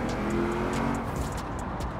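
A Mitsubishi car engine in the Forza Horizon 4 racing game roars under acceleration, a buzzy rising drone with gear-shift pulses, heard close and fairly quiet with no talking.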